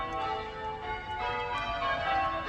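Blackburn Cathedral's church bells ring out on a Sunday, a steady run of overlapping metallic peals with a sustained hum that stays fairly even throughout, heard alone without voices.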